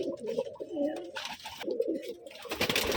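Domestic pigeons coo in soft repeated throaty calls close by, with a voice speaking faintly in the background.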